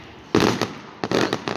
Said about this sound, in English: out from my kitchen window, we saw that people was doing fireworks